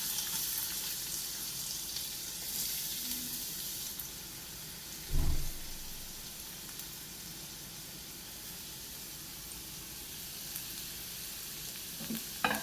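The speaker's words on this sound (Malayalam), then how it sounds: "അതിലേക്ക് നമുക്ക് ഉള്ളി ഇട്ട് കൊടുക്കാം. സവാള ചെറുതായി അരിഞ്ഞിട്ട് കൊടുക്കാം." Finely chopped onions dropped into about one and a half spoons of hot oil in a pan crackle with a steady, even sizzle, with one brief thump partway through.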